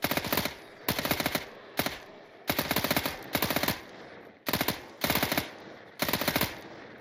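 Rapid automatic gunfire in the video game Fear the Night, delivered in repeated short bursts separated by brief pauses, loud and close with no talking.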